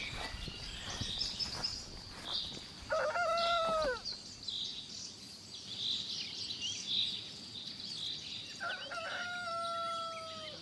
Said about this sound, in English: Have you ever heard roosters crowing in the village?